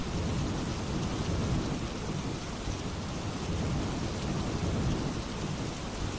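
A cartoon sound effect of a stormy night: heavy rain pours in a dense, steady roar with deep rumbling thunder underneath, loud and continuous without any talk.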